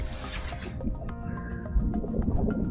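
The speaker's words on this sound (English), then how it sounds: "Another winter bird just calling out, you can hear that, is Fieldfares." Short harsh fieldfare calls chatter repeatedly over a low rumble of outdoor background noise by a river in winter, fairly distant and intermittent.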